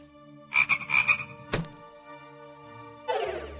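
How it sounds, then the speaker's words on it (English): Nether frog croaks in the fantasy game Lost in Fantaland, a burst of repeated rasping croaks followed by a sharp thunk, then a low rumbling croak at the end, over steady background music. "It's a nether frog."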